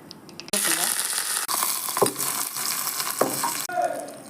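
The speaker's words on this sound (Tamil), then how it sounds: "இப்போ இதை தாளிக்கலாம்." Mustard seeds, dried red chillies and urad dal hit hot oil for tempering, a loud steady sizzle and crackle close up with brief pops and stirring scrapes, a faint voice barely audible underneath.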